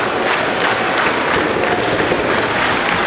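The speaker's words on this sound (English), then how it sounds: "Crowd getting behind Roderick here a little bit." A wrestling crowd applauds and cheers for Roderick Strong during a match against El Generico, a dense, loud, continuous wash of clapping and crowd noise with no distinct voices.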